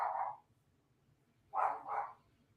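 A dog barks once, pauses about a second, then gives two quick barks in succession, moderately close with a quiet background.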